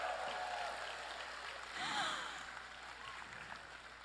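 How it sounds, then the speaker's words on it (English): Crowd applause, a dense steady wash of clapping throughout, swelling briefly near the middle, heard from within a large room. "give a big round of applause for ASEAN"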